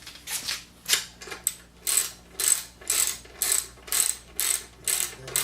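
A hand ratchet tightening a bolt on a Honda VT600 motorcycle, giving a series of about ten evenly spaced, close, crisp clicking bursts with short pauses between strokes.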